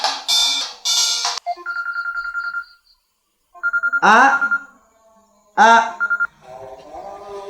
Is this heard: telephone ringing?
yes